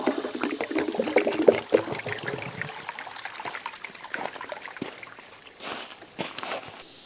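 Water runs through a gold sluice lined with Razorback matting as Gold Hog concentrate is washed through, a steady close trickling and splashing that thins out and grows quieter toward the end.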